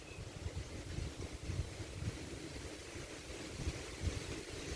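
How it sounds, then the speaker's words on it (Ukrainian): Steady, cool wind rushing across the microphone in a city park in the morning, a continuous low rumble with gusty buffeting and no voices. "А вітер такий, ніби це вже вересень, скоро зима, осінь, прохолодний."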